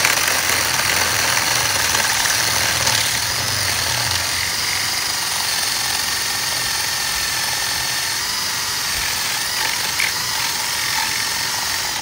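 A loud power drill boring a hole in wood grinds steadily and close up, a constant mechanical whir with rattling chatter throughout and no talking.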